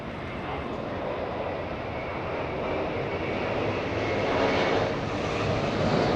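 Boeing 787-9 Dreamliner landing at Los Angeles International Airport after a long-haul flight from Warsaw, a broad roaring jet rush that swells gradually louder as it passes close by, heard alone without talk.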